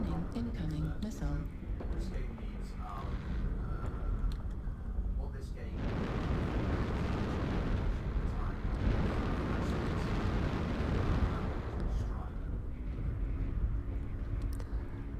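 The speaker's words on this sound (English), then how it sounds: "Warning, incoming missile." Missile explosions in MechWarrior Online faction warfare, heard as continuous rumbling blasts and booms with heavy low rumble through the whole stretch, while a voice talks over them.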